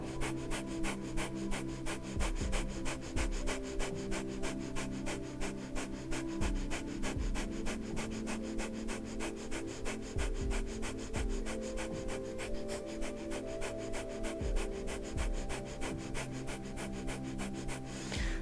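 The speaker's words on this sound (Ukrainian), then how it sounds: "можете зупинитися, зробити глибокий вдих, видих і почати далі активно дихати" Active yoga breathing, with deep, forceful inhales and exhales repeating in a steady rhythm over a continuous background tone, close and fairly quiet, with no speech.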